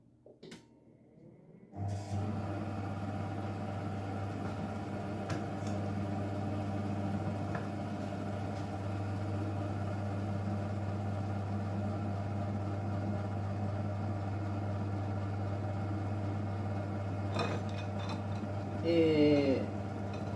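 A Monsieur Cuisine food processor mixes cake batter for a birthday number cake, a steady low motor hum running evenly for about eighteen seconds after a brief clatter, with a voice speaking briefly near the end.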